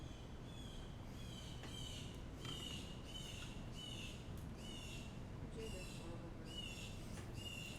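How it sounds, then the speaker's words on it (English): Blue jays call from outdoors in a series of repeated harsh squawks, evenly spaced and fairly faint, heard at a distance through steady background noise. "Those are our blue jays outside, if you can hear that."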